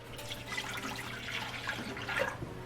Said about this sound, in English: So in a small saucepan here, I'm gonna pour in my milk.